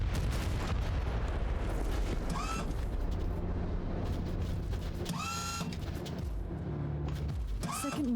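Mortar fire and heavy explosions in Warhammer 40,000: Inquisitor – Martyr, a continuous low rumbling barrage with booming impacts and several sharp whooshing sweeps, loud and close throughout.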